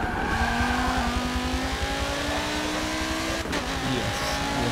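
Race car engine in Forza Motorsport 7 holds a loud, steady high-revving whine through the whole stretch, with shifting pitch and a brief dip near the end, plus light tire noise. No talk.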